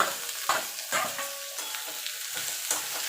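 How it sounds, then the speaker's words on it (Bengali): Radish greens fry with onions in a pan, a low sizzle punctuated by several close, brisk stirring scrapes. "এইভাবে যদি আপনারা শাক ভাজেন দেখবেন শাকের রঙটাও সবুজ থাকবে"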